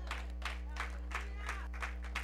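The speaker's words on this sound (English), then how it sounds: "Clap your hand for Jesus" Church congregation clapping hands for Jesus at a service, a faint, steady patter of claps in a regular rhythm over a constant low hum.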